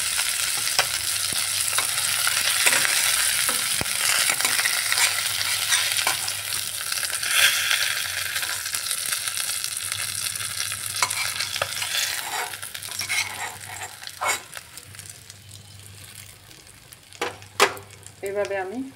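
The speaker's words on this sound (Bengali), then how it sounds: "লাল করে ভেজে নিচ্ছি। মাছগুলো কড়া করে ভাজা হয়ে গেছে" Rohu fish pieces fry in hot oil with a loud, continuous sizzle, punctuated toward the end by sharp clinks and scrapes of stirring in the pan.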